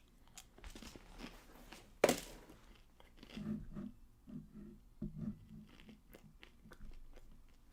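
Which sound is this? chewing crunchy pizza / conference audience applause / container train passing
chewing crunchy pizza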